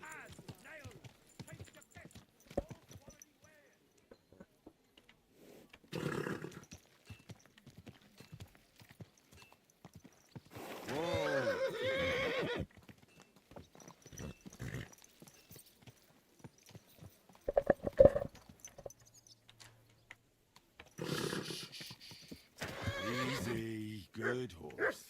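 A horse in Kingdom Come Deliverance 2 whinnies and snorts in several loud bursts, with hoofbeats clopping between them, while a player talks over the scene in short remarks.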